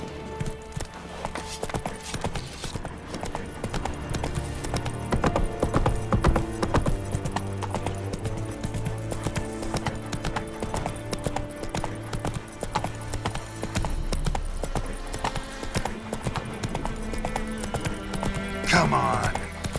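Geralt's horse Roach in The Witcher 3 on PS5 Pro, hooves clip-clopping in a steady rapid gallop rhythm, loud and close, with a brief whinny-like sweep near the end and game music underneath.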